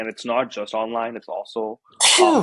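One loud, sharp sneeze bursts out near the end, right after someone speaks in a podcast interview.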